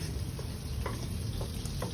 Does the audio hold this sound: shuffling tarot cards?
no